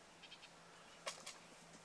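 A couple of faint, short bleats from a freshly shorn sheep rise over quiet outdoor background, spaced about a fifth of a second apart, with a softer cry near the start.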